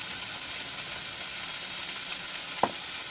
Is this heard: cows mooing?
no